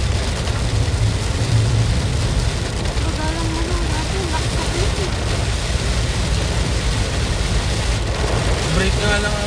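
Heavy rain pounding steadily on a car on a mountain road, a loud constant broadband roar that fills the whole stretch without letup.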